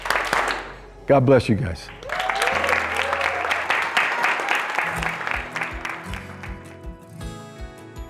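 Applause breaks out at a college leadership summit for rising freshmen, clapping under a loud voice and backing music with a thumping beat, a crowd cheering briefly mid-clip.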